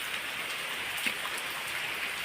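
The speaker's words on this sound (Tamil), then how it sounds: "பாருங்க எவ்வளோ மழை பெய்யுது." Heavy rain falls steadily in a dense, even hiss with scattered drops pattering nearby, no voices, constant and fairly loud throughout.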